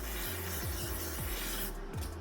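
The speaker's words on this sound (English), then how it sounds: "3M cavity wax is now sprayed on the back side of the panel to protect the repair against any" 3M cavity wax sprayed onto the back side of a repaired Tesla Model 3 quarter panel, a steady close hiss running without a break, with a low mechanical hum and slow whirring sweeps beneath it.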